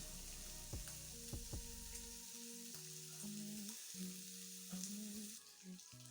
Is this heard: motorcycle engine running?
no